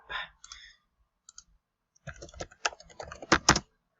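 Clicky computer keyboard typing in an office database program, a few scattered keystrokes first and then a denser burst of rapid clacks toward the end, close and fairly soft.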